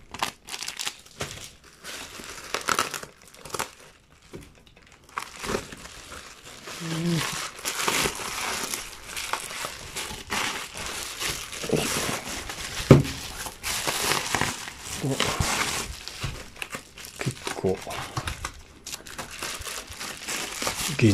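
Crinkly protective plastic packaging is pulled and crumpled off a Cadash arcade game circuit board, producing irregular rustling and crackling bursts close by, broken by brief pauses and a few sharper crunches, with a voice speaking at times.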